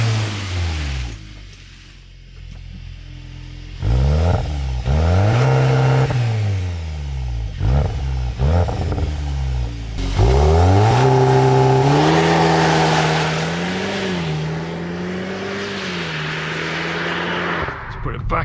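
A 2025 Audi S3 in Dynamic Plus mode accelerates hard, its engine rising through several gears in repeated climbing revs, then holding a strong, loud drone at speed with no talk.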